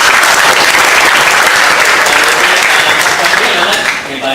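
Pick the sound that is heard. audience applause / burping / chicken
audience applause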